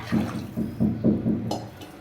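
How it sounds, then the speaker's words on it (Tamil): Tamarind water poured into a fish curry mixture for Mallipattinam meen kulambu, a rhythmic gurgling splash in repeated pulses as liquid lands in the pot, close and moderately loud with no talking. "அந்த புளி தண்ணி சேர்த்துக்கலாம்."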